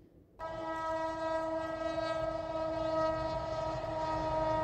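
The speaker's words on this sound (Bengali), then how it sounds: "আবার একটা ট্রেন দেখা যাচ্ছে" After a moment of quiet, a train's horn blares loud and sustained beside the flower fields of Khirai, holding a steady tone over the rumble of the passing train.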